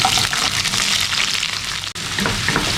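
About 250 grams of shallots fry in hot coconut oil, a loud, dense, continuous crackling sizzle right up close, with a brief sharp dip near the end and no talking.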